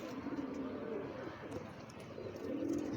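A domestic flock of fancy pigeons with purple feet coos in soft repeated throaty calls, close by, against a low background murmur.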